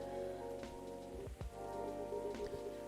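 Rain falling outside in the video game Coffee Talk 2, a soft steady patter under a sustained tonal hum, with a few brief low thumps near the middle; quiet overall and without speech.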